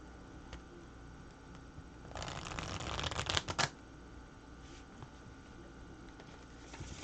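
Tarot cards shuffled for a pentagram spread, a short burst of crisp riffling and flicking in the middle of the clip, fairly quiet, with soft handling taps before and after and no talk.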